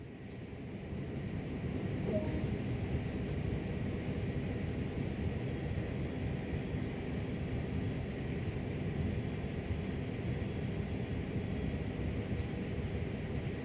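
A locomotive rumbles in the Train Sim World video game as it brakes toward a stop, a steady loud low rolling drone with a faint hiss of air brakes throughout.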